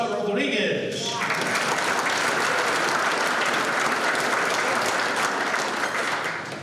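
Applause from an audience at a UTEP hall of fame ceremony, starting right after a brief spoken introduction. It swells into a dense, sustained clapping that fills the hall and tapers slightly at the end.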